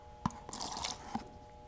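A homemade wood tincture splashes onto old barn wood, followed by a couple of soft, close drips. The sounds are faint and spaced apart against a quiet room hum.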